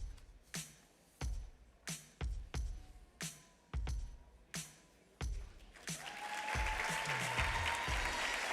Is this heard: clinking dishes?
no